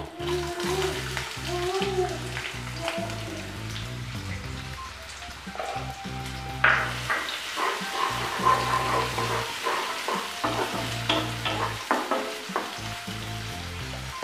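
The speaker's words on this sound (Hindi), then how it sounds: "और इन दोनों को एक मिनट के लिए भून लेते हैं अब इसमें हम प्याज डाल देते हैं" Chopped onions, added to cumin, fry in a pan for masala Maggi. A steady, close sizzle rises as they go in, with soft stirring and light background music throughout.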